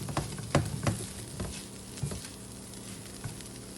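Pre-frozen tofu and red quinoa sizzle in a stir-fry pan, a continuous frying hiss broken by soft irregular pops and light stirring taps, close and moderately loud.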